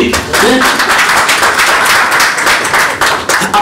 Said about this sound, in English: Can you clap for that, please?